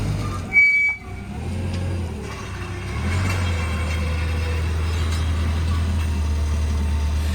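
A forklift drives up and slides its forks under the tires of a Jeep, its engine a steady low rumble that swells after a brief knock, continuous and fairly close with no talk.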